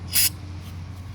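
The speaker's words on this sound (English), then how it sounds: "how many times I can spray myself in the face with carburetor cleaner in one video" Carburetor cleaner blasts from an aerosol can onto a Chevy TBI throttle body in one short, loud hissing burst, followed by a low steady hum.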